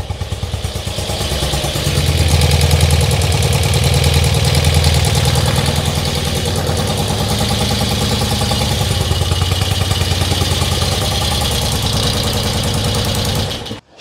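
A carburettor-fed engine idles slightly high before carburettor synchronisation, giving a steady, close, rhythmic mechanical thrum with light clatter that runs evenly and then cuts off abruptly at the end.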